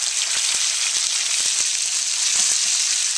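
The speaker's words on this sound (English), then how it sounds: "next ingredient we'll put in will be the ground pork. And you'll see that the spices are already browning up." Ground pork hits a hot pan of browning spices and fries with a loud, continuous sizzle, punctuated by faint ticks and pops, close up and without any voices.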